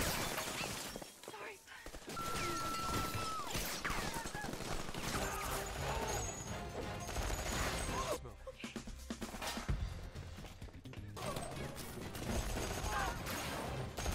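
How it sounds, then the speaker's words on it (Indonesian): A gunfight in the action film Knight and Day erupts with rapid bursts of gunfire and shattering glass, dense and chaotic, sustained loudly almost throughout with only brief lulls. "Kemudian baku tembak pun terjadi."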